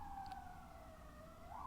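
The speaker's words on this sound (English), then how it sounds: "sirens in the background." A distant siren wails steadily in the background, its tone sliding slowly, faint and unbroken, with no one speaking.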